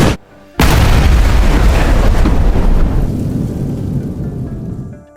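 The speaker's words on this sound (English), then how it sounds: "his colleague had arrived at the scumbag's home, only to discover that Song Chan had planted an improvised bomb inside." An improvised bomb goes off with a sudden, loud, deep blast after a brief hush, followed by a long rumbling decay that fades over several seconds.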